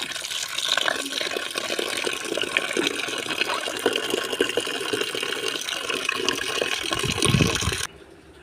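Rose petals are swished and rinsed in clean water, making a continuous, close splashing and sloshing wash that stops abruptly near the end, leaving faint background quiet, with no voices.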